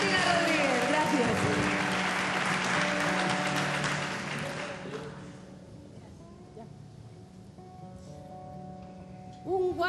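An audience at the 2007 Asturian song gala applauds a singer. The full, sustained clapping lasts several seconds, then fades to a quiet room with faint voices and stray sounds.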